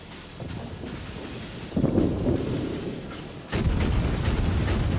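Naval gunfire in the World of Warships game from a Neptune cruiser, heard as a muffled rumbling background with two abrupt louder booming surges partway through, no talk over it.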